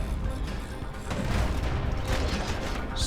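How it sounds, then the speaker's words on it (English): A spray of gunfire in the action video game Bastion, a dense, rumbling burst of rapid shots and booms lasting a few seconds at close range. "The spray of bullets will not let them escape."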